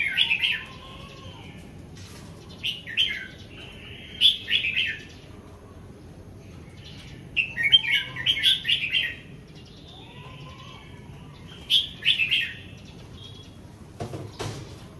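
Caged competition songbirds chirp in short, bright bursts during feeding and care, repeating every few seconds over a low background hum, with a brief knock near the end.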